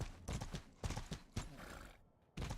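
A horse's hooves clip-clop in a steady series of sharp, loud strikes, several in quick succession with a short pause before the last one.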